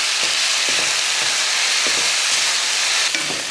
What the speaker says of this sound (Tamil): தக்காளி பாருங்கள் நல்லா வதங்கிருச்சு. இந்த டைமில் நம்ம புதினா சேர்த்துக்கலாம்.